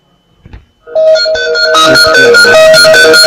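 A Gfive feature phone powers on with a very loud, bright startup melody of layered electronic tones that rings out continuously after a brief click.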